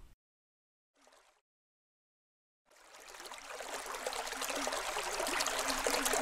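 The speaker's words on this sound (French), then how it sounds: "Mais c'est un torrent qui s'échappe!" A mountain torrent of water leaps over rocks, its rushing roar swelling in after a short silence and a brief faint noise, then growing louder and steady, close and alone.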